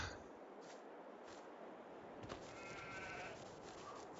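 Sheep bleat a few times in Farming Simulator 22 over a steady background hum, with one clear call near the middle and softer, farther bleats around it.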